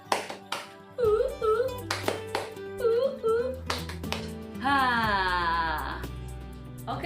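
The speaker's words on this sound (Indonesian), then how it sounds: "mari kita tepuk semangat. Tepuk semangat" A group performs a rhythmic clapping chant at a competency event, with sharp claps in patterned bursts between sung or chanted voices.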